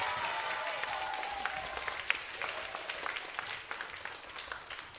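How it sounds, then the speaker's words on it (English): An audience at a grade 5 school band Christmas concert applauds, with steady, full clapping that carries on throughout, moderately loud and slowly tapering toward the end. "give a big round of applause"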